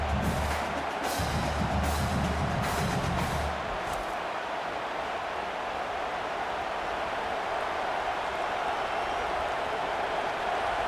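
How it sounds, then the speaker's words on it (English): Stadium crowd in the EA College Football 25 video game during a Colorado vs Nebraska simulation, a sustained loud roar that swells early then settles into a steady wash of cheering with no talk. "This crowd, full throat, splitting the eardrums and letting them know it's going to be a long day."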